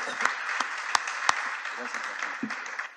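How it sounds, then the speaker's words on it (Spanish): An audience at a public forum on justice and human rights gives steady, dense applause, with a few louder individual claps standing out near the start. "Quiero pedir nuevamente un aplauso para Rodolfo y para Félix Pablo"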